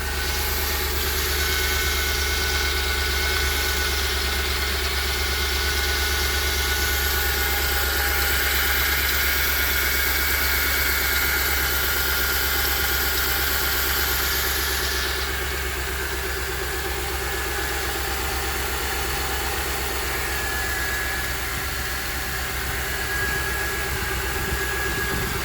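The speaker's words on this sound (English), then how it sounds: "as the engine warms up, it does start to make a sound, a knocking noise, kind of from the left side of the engine" A cold 2008 Ford F-150 XLT with the 4.6L engine idles steadily, a close, continuous engine drone with a knocking noise from the left side of the engine, no voices.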